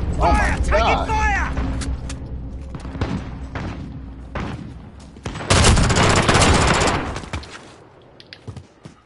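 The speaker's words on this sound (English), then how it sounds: "Changing mags." Magazine swap in Call of Duty Modern Warfare during a co-op match, heard as clicks and metallic handling noises amid bursts of gunfire and a heavy roar of shooting, with a voice speaking early on.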